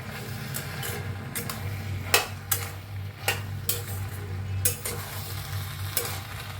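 A spoon stirs a mixed vegetable curry with crushed peanuts in a pan, giving irregular scraping clinks and taps over a steady low sizzle, close and fairly loud with no talking.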